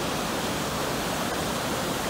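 The Androscoggin River running high and wild, its rushing water a steady, broad, continuous roar filling the scene with no break and no voices.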